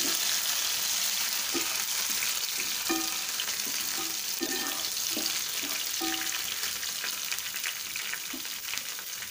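Onions frying in a pan with fresh coriander added, a steady close sizzle under repeated scraping and stirring strokes of a spoon at an even rhythm, no talking.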